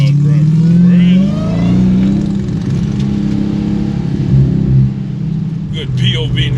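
Dodge Hellcat Jailbreak with a new exhaust rumbles loudly up close, its engine swelling and easing in deep revving surges alongside road noise inside the car.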